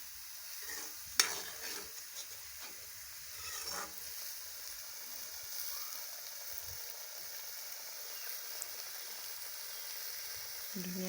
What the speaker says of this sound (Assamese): তেল বিৰিঙি উঠিছে। এতিয়া মই দিম মছলাটো অকণমান মই পানী দি লৈছিলোঁ।